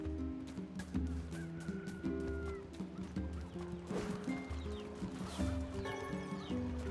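Chickens cluck in the NieR Replicant video game, with short fowl calls layered over a looping game music bed, moderately quiet and without talk.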